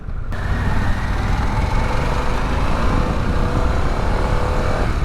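Harley-Davidson Pan America Special adventure-touring motorcycle riding on the road, its engine giving a continuous, loud, gruff drone with rising pitch as it pulls, wind rush mixed in, no talk.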